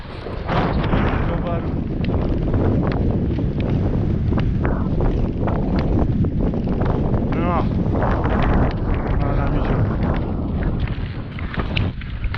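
Strong wind gusts buffet the microphone on a winter mountain trail up Pilsko, making a loud, continuous roaring rumble. Indistinct voices speak now and then beneath the wind.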